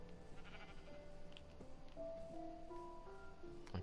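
Sheep bleating in Minecraft, several short tonal calls scattered over a steady game background hum, moderately loud and close, with no talking.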